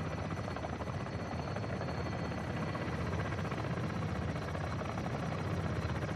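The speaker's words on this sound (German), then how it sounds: "Wo ist der Heli? Ach, da oben." Helicopter rotor in Call of Duty: Modern Warfare 2, a steady, dense whirring thrum that holds evenly loud for the whole stretch, no voices over it.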